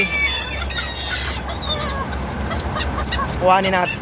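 Young bantam chickens make squeaky clucks and short calls, loud and close, over a constant low background hum, with a brief honk-like squawk near the end.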